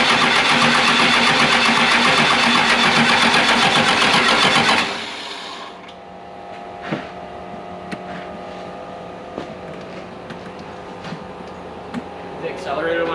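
A Cummins diesel swapped into a 1996 Ford OBS truck cranks and runs with a loud, rapid, even chugging clatter. After about five seconds it cuts out abruptly, leaving quiet rattles, clicks and faint hum.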